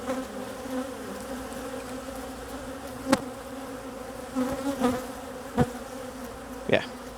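Honey bees hum in an open hive during an inspection among queen cells and nucs, a close, continuous buzz broken by a few sharp knocks and clicks, with no voices.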